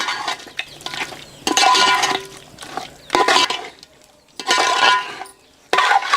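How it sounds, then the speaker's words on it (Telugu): Gongura paste is mixed into chicken pieces for biryani, with uneven bursts of wet squelching and clinking from a vessel, loud and close, separated by brief quiet gaps. "ఈ గోంగూర పేస్ట్ అంతా చికెన్ ముక్కలకి బాగా పట్టేటట్టు కలుపుకోవాలండి."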